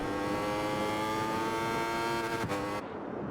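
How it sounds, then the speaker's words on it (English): Onboard a Yamaha racing motorcycle at Cadwell Park, the engine screams at sustained high revs with a dense harmonic whine, briefly dipping on a gear change and fading near the end. "As we ride on board then with the Yamaha."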